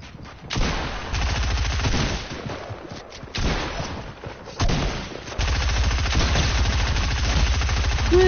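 Rapid SMG fire in Fortnite comes in loud, sustained bursts separated by brief pauses, with the longest stream running near the close.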